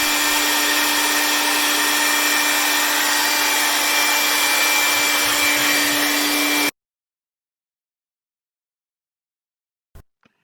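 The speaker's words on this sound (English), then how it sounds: "when the cold air is blown at the airfoil, it rises" Cold air blown steadily at an airfoil in a flight demonstration gives a loud, broad rushing hiss with a faint steady whine that lasts about six and a half seconds, then cuts off into silence, followed by a couple of faint clicks near the end.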